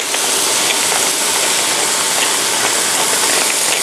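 Black pepper ground from a mill over a frying pan of seasoned beef taco filling, a steady dense crackling grind running unbroken throughout, loud and close with no voices.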